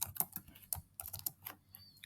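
Quick, irregular clicks of typing on a computer keyboard, close and fairly quiet, several keystrokes in short bursts with no talking.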